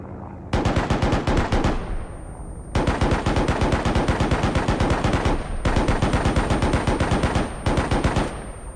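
Aircraft guns in a World War II shooter strafe in long, loud, rapid machine-gun bursts, four rattling volleys separated by brief pauses, with no one talking.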